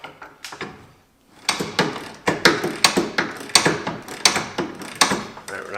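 A ratchet wrench loosening a 15/16 bolt on a strut rod of an old Mopar car, a loud, close run of rhythmic clicking strokes that starts after a brief quiet pause.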